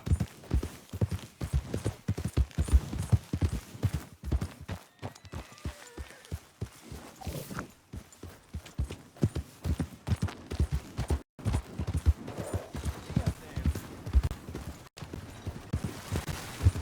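A horse's hooves clip-clop in a fast, steady rhythm in Red Dead Redemption 2, crisp and close, with creaking tack and the odd short pause.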